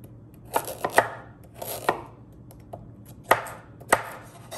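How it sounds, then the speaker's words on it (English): A chef's knife chops vegetables on a cutting board in a few quick, uneven clusters of crisp, close knocks, with short pauses between them and no talking. "You can just chop this way."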